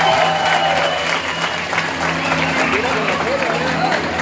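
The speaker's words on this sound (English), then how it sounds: "Give him a round of applause" An outdoor festival crowd at an American Indian Day Festival applauds after an alligator wrestling display, with dense, loud clapping and scattered crowd voices continuing steadily throughout.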